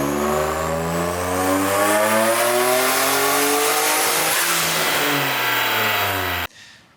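A Nissan 350Z fitted with an eBay turbo kit winds up through a full-throttle dyno pull, the engine note climbing loud and steady in pitch until it cuts off abruptly near the end.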